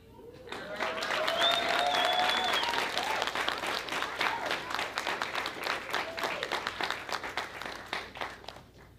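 A school awards assembly audience claps for student sports champions, applause swelling quickly and holding steady for several seconds with a faint shout or whistle near the start, then thinning into scattered claps.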